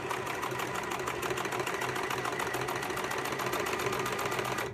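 A sewing machine stitches fabric about half an inch from the edge, running at a steady, even mechanical whir with rapid needle ticking, close and continuous throughout.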